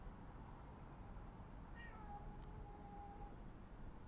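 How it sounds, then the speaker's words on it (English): A pet cat meows faintly a couple of times in a room with a steady background hiss, the calls brief and rising, heard alone without talk. "I think my cat is here."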